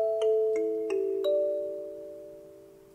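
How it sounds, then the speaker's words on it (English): A short, bell-like melody of six notes rings out quickly in sequence, the last note held and slowly fading away. "it's just a 6-note motive, which sounds like this"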